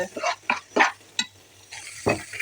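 A spoon stirs coconut milk curry in a pot, giving several short scraping and sloshing strokes close up, with a brief pause and a clack before more stirring.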